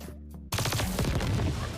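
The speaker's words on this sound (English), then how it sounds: "So the Z move is chain detonation. It's a cannon." Cannon chain detonation attack from the Roblox game Blox Fruits: after half a second of near silence, a loud burst of rapid repeated explosive blasts rolls on continuously to the end.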